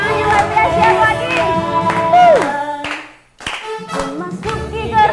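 A congregation at a teen church worship service claps along to a song, rhythmic hand claps under singing voices and music, with a brief pause before the clapping and singing pick up again.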